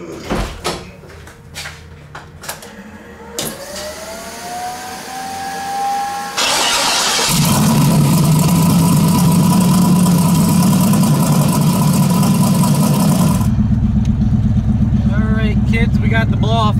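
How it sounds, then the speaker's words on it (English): A truck engine fitted with a newly installed blow-off valve revs loudly, and a sharp hiss of released pressure cuts in before a sustained roar, with brief knocks and handling sounds early on. "We got the blow-off valve installed. Definitely hear it working."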